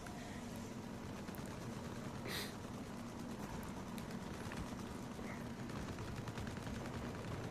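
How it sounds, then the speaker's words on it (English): Continuous rattling gunfire from Battlefield 4 combat, rapid automatic shots running steadily throughout at moderate distance, with one sharper crack partway through and no talk. "those guys are shooting"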